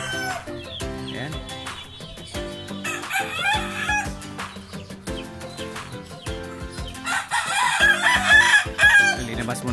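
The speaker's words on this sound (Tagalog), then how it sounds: "Alaga ng ating manok." Chickens cluck busily nearby while a rooster lets out loud crows, the calls overlapping in a noisy farmyard chorus.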